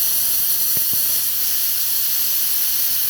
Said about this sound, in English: I thought some clean steam might be good for them.